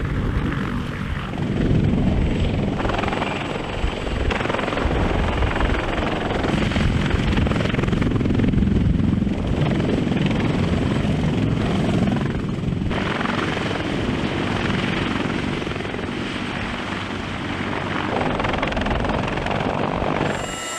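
A CH-53E heavy-lift military helicopter flies overhead, its rotor beat and turbine roar loud and steady throughout with no voices.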